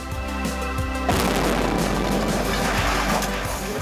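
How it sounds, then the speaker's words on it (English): A mortar round lands and explodes nearby in a conflict zone, a loud sudden blast at about one second followed by a sustained roaring rumble and debris noise, heard without speech. "An enormous explosion that's just come down. I think it was a mortar that's just landed in between us."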